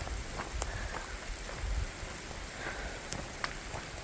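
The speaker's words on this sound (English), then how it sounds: "It's down where it's not hailing here, but it's raining, so we're trying to stay under the trees." Steady rain falls on a forest along a mountain hiking trail, a soft continuous patter with scattered sharper drops landing nearby, with no voices.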